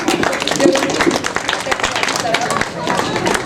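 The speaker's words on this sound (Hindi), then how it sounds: "ये जोरदार ताली बजाइए" Live audience at an outdoor street play applauds loudly, a dense, steady patter of hand claps with crowd noise running through the whole stretch.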